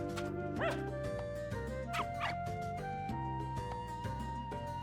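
A cartoonish dog barking and yipping in the video game Naruto Shippuden Ultimate Ninja Storm 2, a few short bark bursts over steady game background music, with brief voices mixed in.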